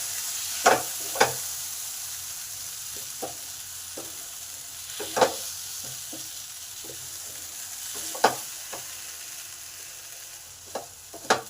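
Masala paste of ground ginger, garlic, onion and tomato sizzles quietly in a pan, broken by occasional sharp scrapes and clinks of a spoon stirring it.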